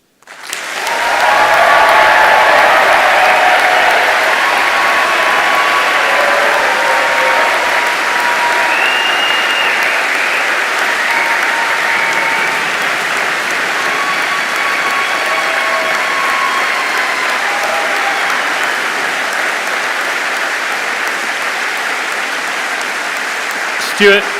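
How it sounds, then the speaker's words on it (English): A large audience claps warmly for newly qualified veterinary graduates at a graduation ceremony, a dense, loud, steady applause lasting the whole stretch and slowly easing toward the end. "please give all of them a nice big round of applause"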